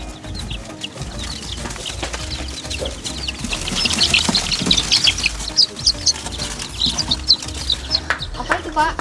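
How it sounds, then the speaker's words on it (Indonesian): Newly hatched chicks from an incubator on a small farm peep in a busy, high-pitched chorus that grows denser and louder through the middle, with nearby talk and other farm sounds underneath. "Ini anak ayam hasil tetasan kami."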